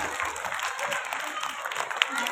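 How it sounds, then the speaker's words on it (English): Audience clapping steadily at a school prize-giving for young winners, a dense continuous patter of many hands, fairly loud and sustained without pause. "All of you please clap for them."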